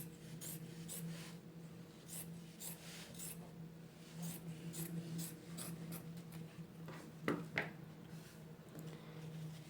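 Scissors cut a fabric bag lining in half with repeated short snipping and rubbing strokes, close and fairly quiet over a steady low room hum.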